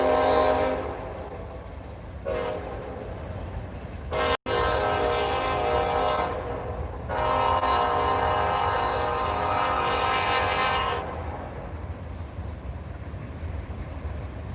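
Norfolk Southern 310 eastbound freight train passing with loud, sustained horn blasts in several bursts over the rumble and rattle of rail cars, close by, with no talk.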